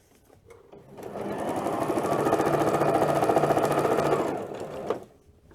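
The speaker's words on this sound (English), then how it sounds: "straight stitch along here, and I'm keeping the edge of the foot at the edge of the fabric" A sewing machine runs a straight stitch along quilt binding, a steady rapid mechanical whirring that builds up, holds for about four seconds, then stops.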